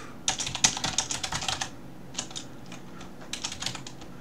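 Python code being typed on a computer keyboard in the nano editor: quick bursts of crisp, close key clicks, a dense run of keystrokes followed by a pause and then a few scattered shorter flurries.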